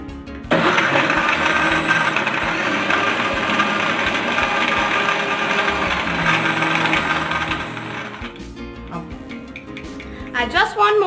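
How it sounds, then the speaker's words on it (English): An electric blender whirs steadily for about seven seconds while blending a blueberry milkshake with milk, loud and close, then cuts off, leaving clinks and handling noise. "Now put the lid and blend it."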